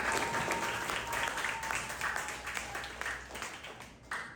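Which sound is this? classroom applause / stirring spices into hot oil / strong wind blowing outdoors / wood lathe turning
classroom applause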